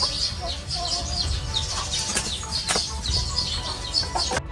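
Two roosters flap their wings hard as they attack a monkey, a dense, busy flurry of wingbeats with brief clucks that runs the whole time.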